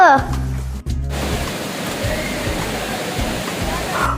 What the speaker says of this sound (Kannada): ಅಮ್ಮ ಈಗ ನೀರ್ ಸೌಂಡ್ ಕೇಳಿಸ್ತಿದೆ